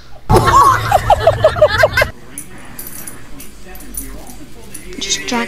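A dog whimpers and yips in a rapid run of high, strained cries up close, breaking off after about two seconds, with people talking and moving around afterward.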